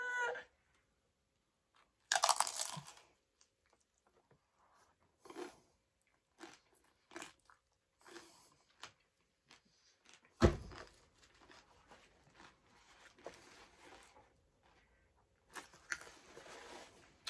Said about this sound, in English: they are so crispy with a delicate filling of potato